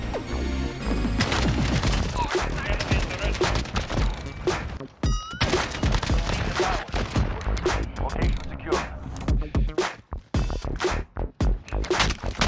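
Rapid bursts of AK-47 fire in Call of Duty: Modern Warfare, loud close sharp cracks in dense volleys with brief pauses, mixed with clattering impacts and game noise.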